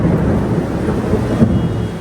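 Low rumbling thunder rolls under a steady wash of rain, loud and continuous throughout.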